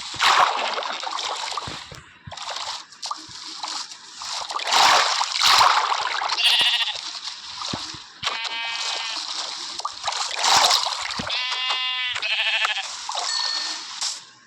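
Minecraft sheep bleats and water splashes, several short bleats in a row among repeated splashing, loud and close, with no talking over them.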